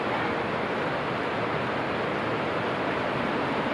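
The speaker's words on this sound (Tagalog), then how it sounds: "Malakas ang ulan dito." Heavy rain pours outside a house in a dense, unbroken hiss, loud and steady throughout with no talking.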